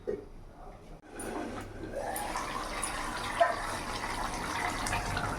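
Water is poured into a pan of fried potatoes while cooking a fish curry, giving a continuous splashing and gushing rush that starts after a brief pause and carries on steadily at close range.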